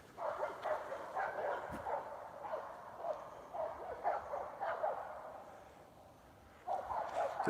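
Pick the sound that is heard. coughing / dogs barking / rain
dogs barking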